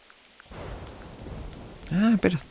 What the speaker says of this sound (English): A bit of thunder